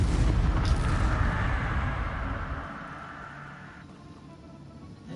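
A fiery whoosh and rumbling burst from the Incendio spell in Hogwarts Legacy, loud at onset then decaying over several seconds into a fading roar.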